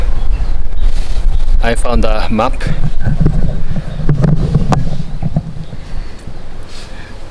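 Strong, cold gusty wind on Mt. Sengenyama buffets the microphone with a constant roar, while a person speaks briefly over it.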